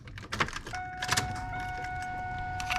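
An electric power window motor from a Pontiac Trans Am runs on the bench with a steady whine, preceded by a few sharp clicks and key-like jingles.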